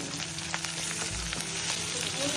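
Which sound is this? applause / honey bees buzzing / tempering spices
tempering spices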